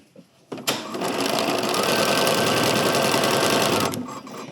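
A sewing machine hems a long dress seam in one steady, loud, fast stitching run of about three seconds, starting and stopping abruptly, close up with no talking.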